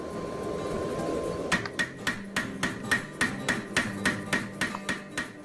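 A hammer forges a steel bar on an anvil to widen it into a triangular shape for a spear socket. Sharp metallic strikes ring out in a steady rhythm, roughly two per second, close and loud over a low background hum.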